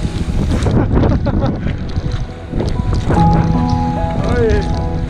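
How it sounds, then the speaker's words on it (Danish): Strong wind and heavy rain batter a camp on the Cowal Way in Scotland, a loud, continuous roar of gusts buffeting the microphone, with brief voice sounds now and then. "Det regner virkelig meget, det blæser alt andet for meget."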